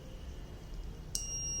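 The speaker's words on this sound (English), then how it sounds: "when we switch on the kit, buzzer and fan on and off 2 times, just to indicate the kit initialized properly" A buzzer on an Arduino-based LPG gas leakage detection kit sounds one sharp, sustained high electronic beep starting near the end, over a low steady background hum.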